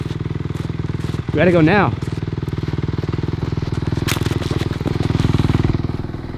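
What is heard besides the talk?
dirt bike engine running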